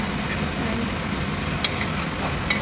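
Spices sautéing in oil in a pan for a Bengali fish dish, a steady low sizzle with a couple of sharp spoon clinks against the pan, close by.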